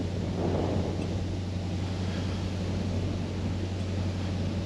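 Strong wind gusting across open water on the Norfolk Broads, a steady broadband roar buffeting the microphone with a low rumble underneath, continuous and loud throughout with no voices.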